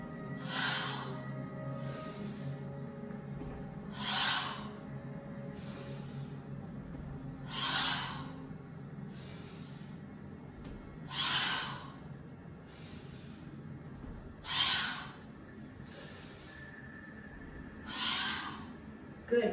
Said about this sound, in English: Inhale. Exhale. Inhale. Exhale. Inhale.